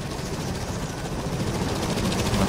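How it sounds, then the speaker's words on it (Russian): Helicopter in the video game S.T.A.L.K.E.R. Lost Alpha, heard as a dense, steady rotor and engine roar that holds at an even, fairly loud level throughout. "Так, нужно подождать, пока вертолет зависнет."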